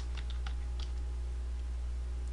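Someone types on a computer keyboard during a software tutorial, with a few quiet, scattered key clicks early on over a steady electrical hum.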